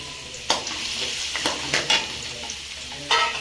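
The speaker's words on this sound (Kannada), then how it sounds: "ಈಗ ಆಯಿಲ್ ಬಿಸಿ ಆಗಿದೆ, ಚಿಲ್ಲಿ ಮತ್ತೆ ಆನಿಯನ್ ಹಾಕ್ತಾ ಇದ್ದೀನಿ" Chilli and onion hit hot oil with a bright, continuous sizzle, broken by several sharp stirring scrapes against the pan.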